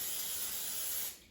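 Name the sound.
non-stick cooking spray sprayed onto a pan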